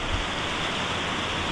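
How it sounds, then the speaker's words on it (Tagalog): Strong waves breaking at a beach, a steady loud broadband roar of surf filling the whole moment without pause, with no voices over it. "Ang lakas na alon"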